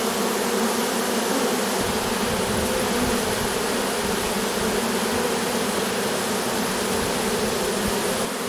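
A honey bee swarm streams into a small nucleus hive box in a dense, steady buzzing drone that stays loud and close throughout, with no voices.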